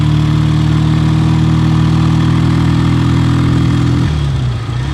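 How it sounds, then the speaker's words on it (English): A 1970 BSA Royal Star 500 motorcycle ridden two-up, its engine a loud, steady, close drone with a constant low hum that shifts and eases near the end, with no voices. "Very smooth bike for 2-up riding."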